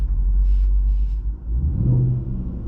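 A Range Rover SVR with a modified exhaust gives a deep, rumbling rev, with low booming bursts early on and a rising growl as the throttle opens again, heard up close.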